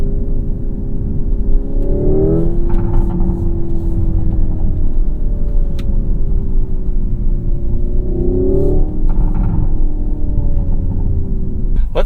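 A 2025 Hyundai IONIQ 5 N accelerating hard in full N mode, its loud synthetic engine tone rising steadily through two gear-like steps over a constant road rumble, recorded from inside the cabin with no talking.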